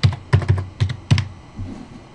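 Keys clack on a computer keyboard as a zip code is typed: about six crisp, close keystrokes in an uneven rhythm, then a softer final tap.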